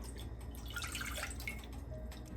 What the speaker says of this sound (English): get a small pot, and I'm going to add 3/4 cup of water